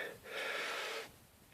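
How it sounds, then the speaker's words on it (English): A single heavy, rasping breath swells and fades close to the mic, a wheezy exhale lasting under a second against quiet background. "all you'll hear is my heavy breathing"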